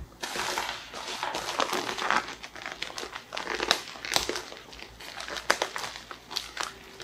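Packaging around heavyweight selvedge denim crinkles and rustles in close, irregular bursts as it is unwrapped, moderately loud and continuous, with no talking.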